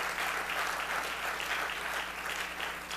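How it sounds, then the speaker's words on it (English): An audience applauds at the close of a conference session on export development, a steady, even wash of many hands clapping at moderate volume, slightly distant, with no talking over it. "I think we really should give Caribbean Export a round of applause for putting on this initiative."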